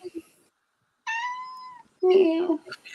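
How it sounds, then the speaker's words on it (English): A cat lets out two clear meows close by, the second louder and more drawn out, with a brief voice between them. "Whose cat's that?"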